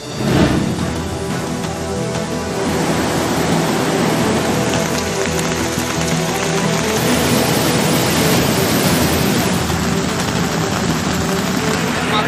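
Rain falls steadily in North Bengal during days of continuous downpour and flooding, a loud, constant broadband wash that holds for the whole stretch without pause.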